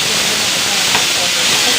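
Beef cooks in a pressure cooker on the stove as steam vents in a loud, unbroken hiss, close and constant across the short stretch with no voices.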